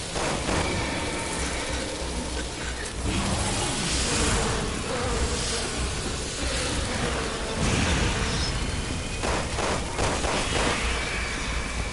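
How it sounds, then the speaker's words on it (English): A swarm of bees in the Resident Evil 6 video game buzzes continuously, a dense droning hum that fills the whole stretch alongside game noise, with no talking. "you're still being swarmed by bees"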